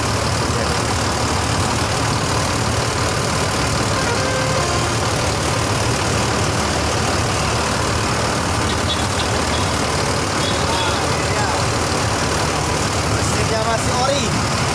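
A vehicle engine idles close by with a constant, loud, rough drone that holds steady throughout while people talk over it.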